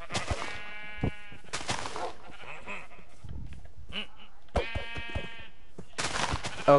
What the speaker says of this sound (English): Get over here, sheep.